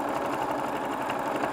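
A sewing machine runs steadily, stitching around fabric pieces for a bag, with a close, continuous mechanical whir and no pauses.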